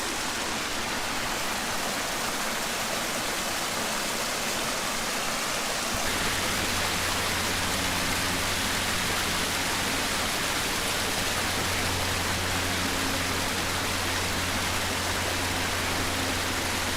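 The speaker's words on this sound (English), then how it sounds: "That's a pretty waterfall." A small waterfall pours steadily beside a mill trail, a dense continuous hiss of falling water that holds at a loud level throughout, with a low rumble joining partway through and no voices.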